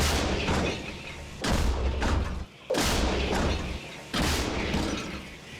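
Heavy booming blasts from an M109 self-propelled howitzer fire one after another, each a loud broadband roar that rumbles on, with mechanical clatter behind.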